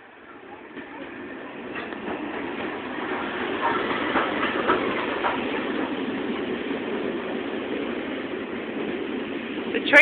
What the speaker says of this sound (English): So the train came in backwards.